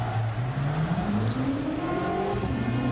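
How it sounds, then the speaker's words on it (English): Race engines at the MotoGP season opener in Qatar, 2013, drone steadily and close, one rising in pitch, with a continuous mechanical whir under crowd-level noise and no speech. "Safety car makes its way."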